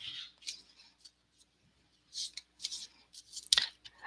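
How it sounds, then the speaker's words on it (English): Tarot cards rasp and flutter in short irregular bursts as they are shuffled close up, with crisp papery slaps and a sharper snap near the end, no voice heard. "Just shuffling my tarot cards."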